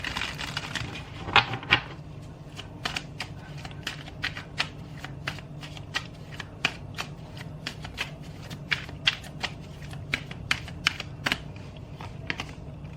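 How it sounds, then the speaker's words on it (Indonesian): Tarot cards are shuffled by hand in a long, steady run of crisp, close papery flicks and snaps. Sharper slaps break through now and then, and no one speaks. "aku shuffle dulu ya kartunya."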